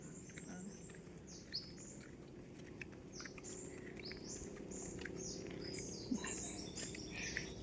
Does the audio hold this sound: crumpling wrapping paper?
no